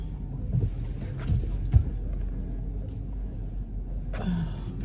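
A car driving along a road on the way to a gas station, with a low steady engine rumble and road noise heard from inside the cabin, plus a few soft thumps and faint wind.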